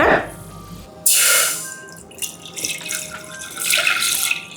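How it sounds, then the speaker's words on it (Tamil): Water pours into a pan while falooda is being made, a bright splashing gush that starts abruptly, then gives way to softer trickling and a second spattering stream near the end. "ஒரு 2 கப்பு இல்லை 3 கப்பு அளவுக்கு தண்ணி ஊற்றி கொதிக்கட்டும்"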